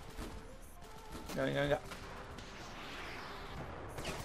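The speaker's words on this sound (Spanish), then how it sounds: "¿Por qué caen disparos? Están disparando para acá." Gunfire in the desert-war video game Ravenfield, a short burst of distant shots around the middle, fairly faint amid background battle noise, with a brief spoken word.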